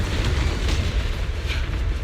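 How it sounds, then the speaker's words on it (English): Explosions in the game Zenless Zone Zero send out deep, rumbling booms, a loud, continuous low roar with a couple of brighter bursts rising out of it. "Move in during the gap between explosions."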